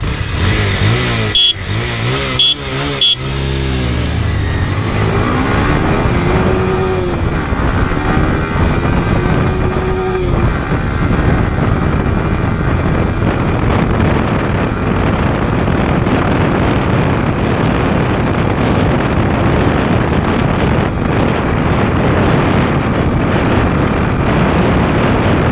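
Yamaha R15 V4 and Bajaj Pulsar 220F BS3 motorcycles launching in a drag race, loud engines revving hard with gear-shift drops in the first seconds, then a sustained high-pitched roar as both pull away.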